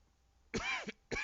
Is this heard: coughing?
yes